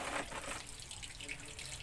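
Strong tap water gushes steadily into a basin while laundry is hand-washed, a close, continuous rushing splash with no talk over it.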